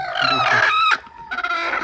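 A broody hen sitting on eggs gives loud, drawn-out clucking calls close by, two bursts separated by a short pause.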